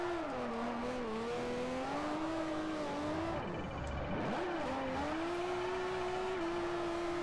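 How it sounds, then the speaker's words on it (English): Nissan 240SX engine in Forza 4 bouncing hard off the rev limiter while drifting sideways, a loud, sustained buzzing drone with rapid stuttering limiter cuts, a brief dip midway, and faint tire squeal underneath. "Bouncing off the limiter while going sideways."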